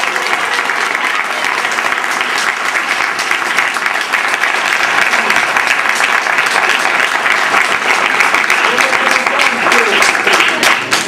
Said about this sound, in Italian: grosso applauso